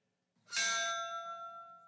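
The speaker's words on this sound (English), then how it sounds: "The sound of bells at a service to remember the 29 coal miners who were killed in the 2010 Upper Big Branch mine disaster" A single church bell struck once at a memorial service for the 29 coal miners killed in the 2010 Upper Big Branch mine disaster in West Virginia, a bright clang ringing out and sustaining as it slowly decays, with no talk.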